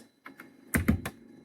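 A few distinct keystrokes on a computer keyboard, a short cluster of sharp clicks with the last ones loudest, close and alone while network routing settings are entered.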